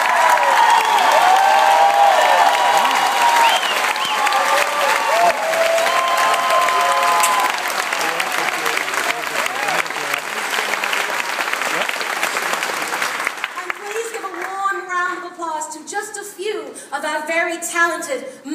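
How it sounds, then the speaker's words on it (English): Audience applauds and cheers loudly at the finale of Memphis the musical, dense and sustained for about thirteen seconds before fading as a voice speaks over the thinning clapping. "please give a warm round of applause to Mr. Edgar Godino"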